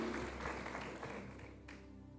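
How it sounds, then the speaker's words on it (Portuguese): A church congregation at a Sunday service applauds together, a dense steady wash of clapping that holds for a couple of seconds before thinning out near the end. "Aplaude o Senhor, querido."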